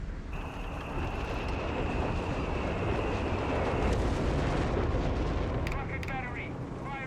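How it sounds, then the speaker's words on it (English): Incendiary rocket barrage from a rocket battery in the Company of Heroes 3 battlefield game, a dense sustained roaring rumble of launches and blasts with a steady whine at first, ending in a few sharp cracks. "Rocket battery. Firing incendiary on that location. Firing rocket barrage."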